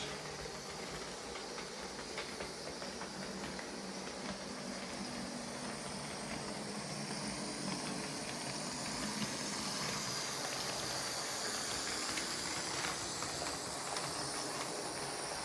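An Athearn model locomotive converted to Märklin three-rail AC runs over turnouts, giving a steady, faint, continuous rumble and hiss with no breaks.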